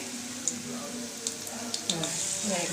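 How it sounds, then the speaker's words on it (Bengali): Topshe fish frying over low heat in oil, a steady soft sizzle with a few brief clinks and bubbling pops, with faint voice sounds in the background. "আমি কম আঁচেই ভাজছি"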